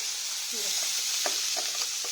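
Steady frying sizzle of ginger and green chilies in a tempering fills the clip, a constant hiss with a few light clinks and stirring scrapes near the pan.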